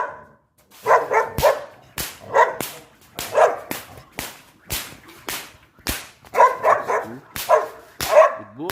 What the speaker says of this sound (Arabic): احنا كده برضه هنبتدي نشرس الكلب دوت